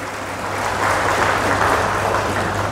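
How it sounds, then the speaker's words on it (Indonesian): Steady, dense audience applause at an Islamic sermon in Indonesia, heard from the crowd at moderate loudness and swelling slightly midway, with a low electrical hum beneath. "Tepuk tangan untuk Nahdlatul Ulama."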